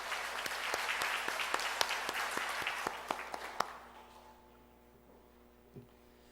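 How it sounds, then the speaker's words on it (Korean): A church congregation applauds after a hymn of praise, a soft, continuous patter of many hands with a few sharper claps standing out, dying away after about four seconds into quiet room tone. "귀한 찬양 받으신 하나님께 우리 영광의 박수를 올려드립니다"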